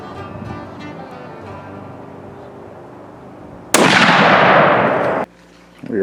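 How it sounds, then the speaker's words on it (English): A brand new muzzleloader fires one loud, sharp blast close by during a backcountry elk hunt, with a long roaring echo trailing off afterward; talk and outdoor noise are heard before the shot. "Jason's brand new gun. This is his first shot."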